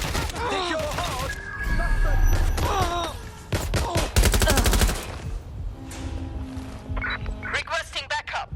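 Gunfire in Watch Dogs Legion erupts in rapid bursts and volleys, loud and close, with voiced grunts and speech from game characters mixed in between the shots.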